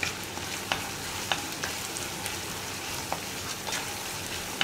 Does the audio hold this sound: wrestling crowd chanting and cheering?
no